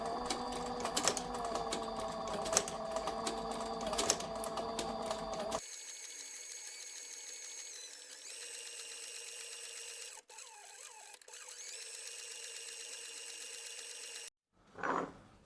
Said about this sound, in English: for sewing I recommend you to use a sewing machine for leather